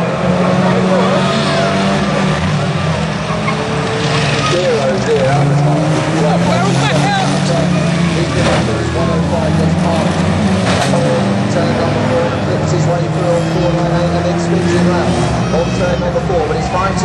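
Big vans in a six-lap sprint race roar loudly and continuously, engines layered and close, while a voice talks over the din.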